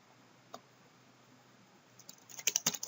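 Typing on a computer keyboard: a lone keystroke, then a quick flurry of close key clicks near the end, in an otherwise quiet room.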